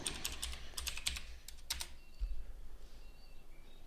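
A computer keyboard is typed on in short bursts of quick, close keystrokes, then stops, leaving faint background hiss.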